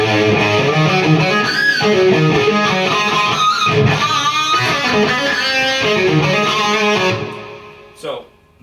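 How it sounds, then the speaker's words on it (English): Electric guitar played through a rock effects rig, loud and sustained with heavy reverb washing over the chords, distorted tone throughout before cutting off near the end with a brief trailing noise. "Hear the amount of reverb there?"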